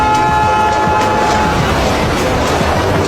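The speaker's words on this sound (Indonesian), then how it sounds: "sebuah kereta tiba-tiba melaju cepat ke arahnya" A train rushes past close by, a loud continuous rumble and roar with steady mechanical noise throughout.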